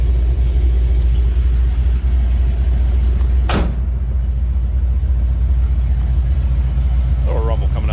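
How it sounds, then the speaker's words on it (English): A 1971 Chevrolet Chevelle with a 454 V8 idles close by with a steady, deep exhaust rumble, one brief burst of noise cutting through midway while someone talks over it. "Little rumble coming out of that 454. Nice sounding exhaust."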